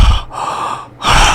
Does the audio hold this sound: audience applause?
no